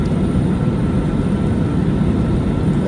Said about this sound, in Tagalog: Nakakalipad lang ng aeroplano.